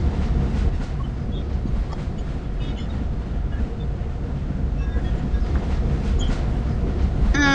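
A train in the Indian Bike video game rolls away with steady rumble and rhythmic clickety-clack of wheels on rails, loud and continuous throughout, with faint squeals near the end.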